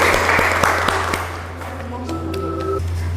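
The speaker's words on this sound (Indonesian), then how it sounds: "berikan tepuk tangan" Students in a classroom give a short burst of clapping that quickly fades into quieter room noise, with a few sustained tonal beeps and faint voices afterward.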